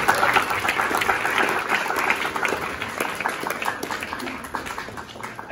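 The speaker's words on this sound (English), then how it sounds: "Again, another round of applause, please." At an 18th birthday celebration, an audience applauds with sustained, dense clapping that fills the room, steady and fairly close, slowly easing toward the end.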